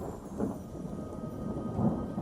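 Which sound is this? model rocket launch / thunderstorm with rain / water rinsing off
thunderstorm with rain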